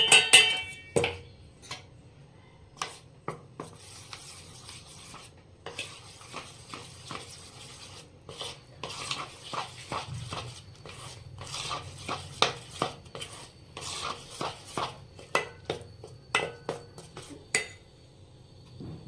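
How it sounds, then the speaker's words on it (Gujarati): Gram flour dough being mixed and kneaded by hand in a metal bowl for spinach-mint sev, with irregular clinks, scrapes and soft slaps knocking against the bowl, close up and without talk. "આમાં જેટલો ખપે એટલો આપણે નાખી અને લોટ બાંધીશું"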